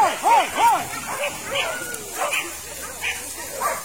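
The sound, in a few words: hunting dogs barking at a small wild boar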